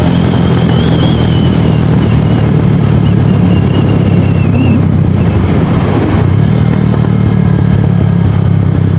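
A DF250RTS / Venom X22R motorcycle fitted with new sprockets is ridden, giving a loud, constant engine drone and a droning rumble with wind and road clatter throughout, heard from the rider's position.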